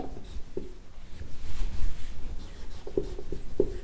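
Chalk or marker writing on a classroom board during a chemistry lesson, heard as a few sharp scratchy strokes spaced out over a few seconds against a steady low room hum, with no voice.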